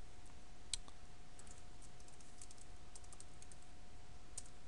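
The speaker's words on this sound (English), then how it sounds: "So we'll type in root and then the password that we put." A root username and password being typed on a computer keyboard: a handful of soft, scattered key taps, one sharper click early on and another near the end, faint and close with a steady hum underneath.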